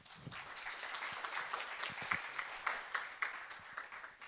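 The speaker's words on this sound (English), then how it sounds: "a round of applause for the panel" An audience at a panel discussion claps for several seconds, a steady wash of applause at moderate distance that swells slightly toward the end.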